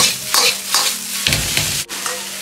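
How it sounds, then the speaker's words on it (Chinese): Pork slices tossed with scallions in a wok sizzle loudly and steadily, broken by several quick rhythmic stir-fry scrapes and tosses, close up with no talking. "接着下入控干油的肉片，快速的翻炒几下，翻炒均匀"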